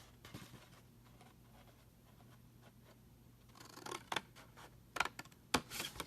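Small scissors snip a tiny piece of paper, making a few sharp close clicks and crisp cuts near the end after a quiet stretch of faint rustling.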